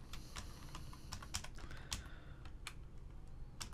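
Steady keyboard typing on a computer while code is entered in the Brackets text editor: quick, light plastic key clicks in irregular bursts, fairly close, with a low background hum and no talking.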